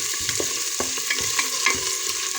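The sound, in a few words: onions sautéing in oil for rice kabsa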